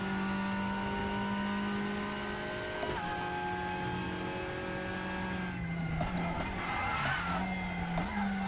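Racing car tyres scrubbing and squealing as brakes lock up in RaceRoom with a WTCR 2021 touring car, a continuous engine drone with skid noise rising near the end, no speech.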